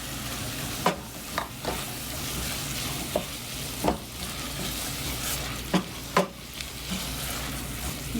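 Small onions fry in a pan for Kerala beef fry, a steady broadband sizzle with occasional sharp clicks and scrapes of stirring, moderately loud and close, with no voices.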